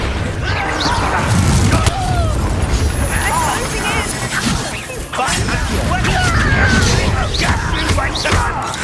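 Confringo and Bombarda spell blasts in Hogwarts Legacy combat: loud, dense bursts of crashing booms and impacts pile up continuously over nearly nine seconds, mixed with shouting voices and battle noise.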